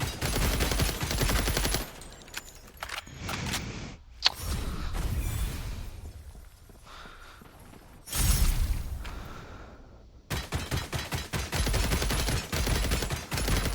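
Gunfire from the video game FragPunk rattles out in rapid automatic bursts, loud and close, with short pauses and quieter stretches between volleys.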